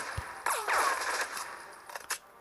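A big gun fires in the ISPR video game The Glorious Resolve, a Pakistan Army shooter, with a rapid burst of loud, close shots trailing into whooshing and ringing tails, then a couple of separate sharp reports.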